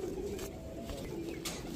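Pigeons coo softly on a rooftop during a pigeon-flying tournament, a low steady murmur over faint background noise.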